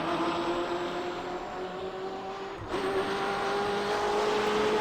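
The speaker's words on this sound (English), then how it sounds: "you can hear that tire skipping along bumpy pavement" The tire of an M8 race car in iRacing at Detroit skips over bumpy pavement, a steady engine drone with rising tonal whine and faint scrubbing, with a brief dip midway.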